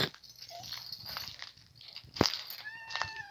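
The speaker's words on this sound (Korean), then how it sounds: "누구 보고 짖는 거야" A dog barks a few times at a house, with short sharp barks spread across a quiet moment and other faint animal sounds around.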